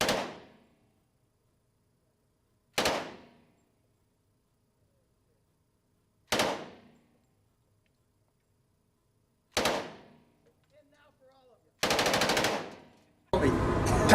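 Machine gun fire at a shooting range, heard as five sharp, loud bursts spaced a few seconds apart, each decaying quickly, with the last two longer and more sustained, and no talking in between.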